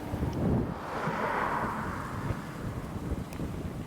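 Wind roaring across ground burnt by a wildfire in Portugal, a steady broad rush with buffeting against the microphone, continuous and fairly close, with no voices.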